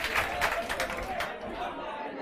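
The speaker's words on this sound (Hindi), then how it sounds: "एक बार इनके लिए भी जोर से ताली बजा दी" A class audience bursts into a short round of clapping that fades after about a second, with a voice talking over and after it.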